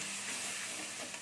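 Chopped tomatoes and ground spices sizzle and hiss in a hot pan, a steady close frying noise like escaping steam with no voices.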